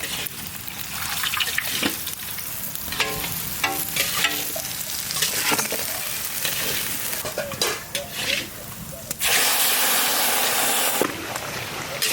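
Potatoes and tomatoes fry in a pan with green chilli for a village-style soya chunk dish, a steady loud sizzle with repeated stirring and scraping throughout, a brief lull near the end before the frying noise returns.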